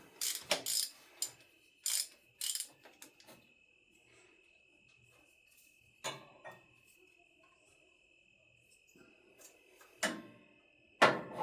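Ratchet clicking in quick short bursts as a 14 socket loosens the tensioner on a 1996 Mazda Miata 1.8L engine, faint and close, with pauses between bursts and a steady high hum behind.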